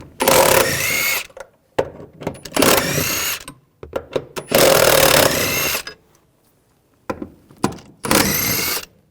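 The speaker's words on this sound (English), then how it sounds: "Using a 14mm socket," A ratchet wrench with a 14mm socket loosening bolts during fuel pump replacement on a 2013-2020 Nissan Pathfinder, loud close bursts of rapid clicking that stop and restart several times with short pauses between.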